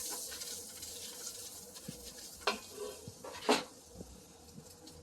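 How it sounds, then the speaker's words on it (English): Vegan mac and cheese roux being stirred in a pan, with a soft steady sizzle and a few scraping spoon strokes, one louder scrape near the end, quiet and close with no talking. "let me stir it in a little bit"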